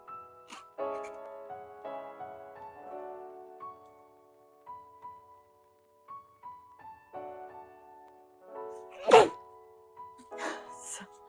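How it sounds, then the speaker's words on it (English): A single loud, sharp sneeze bursts out near the end, following stretches of moaning, nasal vocal sounds and brief murmurs from a person with stuffing up their nose. "I would have sneezed all over this hat"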